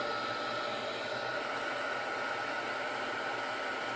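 A heat tool blows a steady, loud, continuous hiss as it dries a beginner's mixed media art project up close, with no talking.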